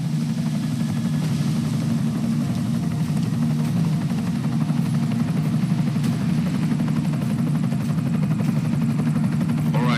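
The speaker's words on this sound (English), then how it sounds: "Enemy helo sighted." An enemy helicopter in the video game Deus Ex: Mankind Divided gives a loud, continuous rotor and engine drone that holds steady and close throughout, with no voices.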